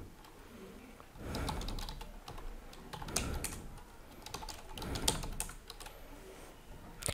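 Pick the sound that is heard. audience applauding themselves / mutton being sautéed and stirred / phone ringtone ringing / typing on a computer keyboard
typing on a computer keyboard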